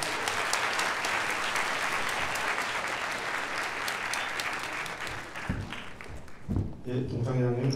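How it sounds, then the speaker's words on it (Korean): Audience applauding at a high school graduation ceremony in a hall, sustained dense clapping that thins out toward the end as a voice begins speaking over it. "큰 박수 부탁드립니다."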